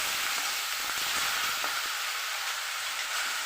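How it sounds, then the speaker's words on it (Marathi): Onion paste frying in a pan, a dense continuous sizzle with soft crackles, steady and close with no voices. "पेस्ट केल्यामुळे कांदा लवकर तळतो."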